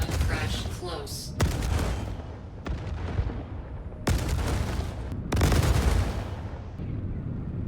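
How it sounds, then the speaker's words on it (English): Missiles launched from an Ares Inferno ship in the Star Citizen video game, a series of loud, sharp blasts and booming impacts in quick bursts over several seconds, under a constant rumble of engine noise. "So again, I'm gonna fire some missiles."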